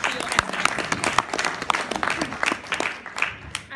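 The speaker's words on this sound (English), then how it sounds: "So first, a round of applause to all of you for your" Guests applaud at a volunteers and members lunch of a Gambian association, with fairly close, uneven clapping from a modest crowd and distinct individual claps standing out.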